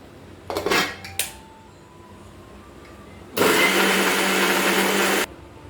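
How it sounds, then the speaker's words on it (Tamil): A few clinks of a mixer grinder jar and lid holding tomato chutney, a pause, then the grinder whirs loudly for about two seconds and cuts off abruptly. "வாங்க நம்ம இப்போ அரைக்கலாம் மிக்ஸி ஜாரில்."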